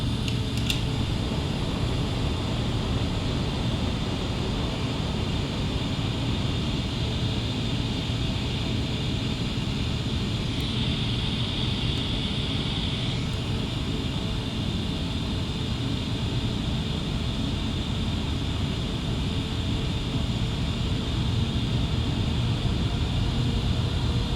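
A simulated airliner's steady cockpit drone fills the scene in Microsoft Flight Simulator X, with a brief mechanical shift partway through as the landing gear lowers, heard loud and continuous without talk.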